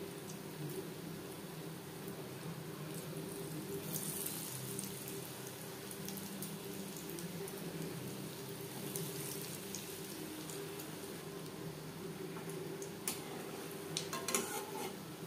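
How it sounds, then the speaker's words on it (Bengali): Quiet, steady sizzle of egg chops shallow frying in hot refined oil over low to medium flame, a continuous crackling hiss with faint scattered pops, nothing else heard. "আমি শ্যালো ফ্রাই করছি, আপনারা চাইলে ডিপ ফ্রাইও করতে পারেন।"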